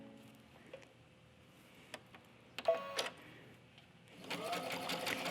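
Sewing machine stitching a button onto a skirt, run by foot pedal: a few quiet taps and clicks, then a dense, rapid mechanical whirr of stitching toward the end, fairly close and moderately loud.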